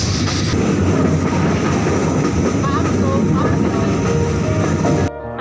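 Inside a passenger train on a long journey to Sylhet, a loud, continuous rumble and rattling clatter surrounds the listener, then cuts off abruptly near the end.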